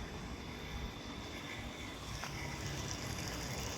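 A faint but steady mechanical drone from an engine-driven pump drawing water near the Pasig River esplanade runs unbroken throughout, a distant continuous whir with no speech over it.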